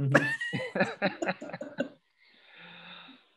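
A person clears their throat with a string of rough, guttural rasps, followed by a softer breathy exhale.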